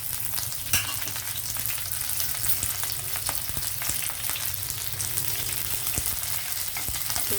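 Cumin, mustard seeds, dried red chillies and curry leaves frying in hot oil, a steady dense crackling sizzle with a few louder pops, continuous and close throughout.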